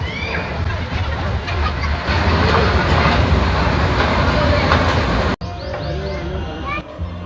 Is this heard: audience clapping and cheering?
no